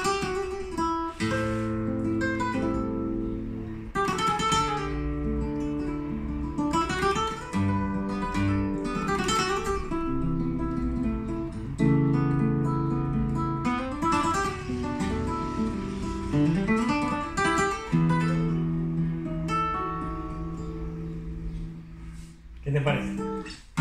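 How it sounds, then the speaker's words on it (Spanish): Maya Eijos Lucía classical guitar strummed and picked in a flowing passage of chords and melodic runs, warm and close, played solo without talk. "el modelo Lucía, una guitarra clásica que suena así."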